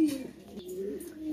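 Several Sirazi pigeons coo softly at a pigeon market, low throaty warbling calls repeating close by over faint background murmur.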